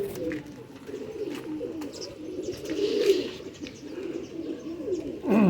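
Pigeons coo repeatedly in hot sun, soft rolling calls close by with a few faint chirps and light flutters, the cooing steady throughout.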